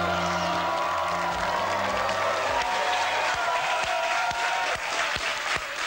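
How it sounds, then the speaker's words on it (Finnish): Studio audience applauds in a dense, sustained wash of clapping that stays loud throughout, with a few faint tones early on. "Lopeta taputtelu."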